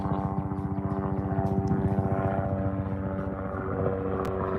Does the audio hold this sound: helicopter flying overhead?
yes